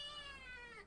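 A talkative young kitten gives one drawn-out, rising-and-falling meow, close and fairly faint, with no voices over it.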